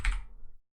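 A few quick keypresses on a computer keyboard while a file name is typed, a short close burst of clicks with no talking.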